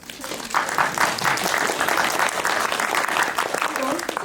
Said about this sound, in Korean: 채널 개설 원하시면 한번 박수를 드릴까요?